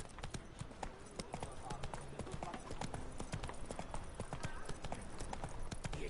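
The horse Roach trotting in the video game The Witcher 3, a steady rhythmic clip-clop of hooves under a dense bed of game sound throughout.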